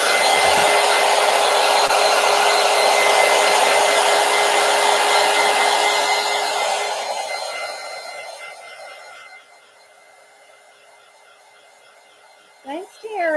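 A hair dryer blows on a mixed media collage journal page, a loud, steady close-up whoosh that runs for about seven seconds and then fades away, followed by a brief voice near the end.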